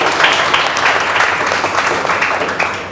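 Audience applause at a school felicitation ceremony for high-scoring CBSE class 12 students in Sultanpur, a steady dense clapping from a sizable crowd filling the space for about three seconds, with no talk over it.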